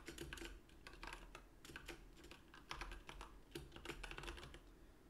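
Rapid keystrokes on a computer keyboard while entering part details for a keyboard circuit board design, the clicks coming in quick irregular bursts close by with no talking.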